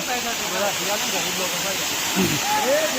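A waterfall on Pavagadh hill pours in a steady, loud, broadband rush that fills the whole clip, with faint voices and a few tonal sounds rising over it.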